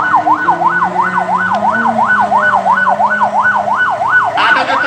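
A loud village ambulance siren wails in a steady, fast two-tone rise and fall at a street protest in Lombok, continuing unbroken throughout with a low engine rumble beneath.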